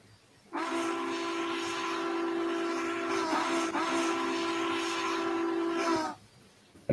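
A pair of locomotives crosses a bridge on the Wasatch grade in Train Sim World, sounding one long, steady horn blast that holds for about five seconds before cutting off.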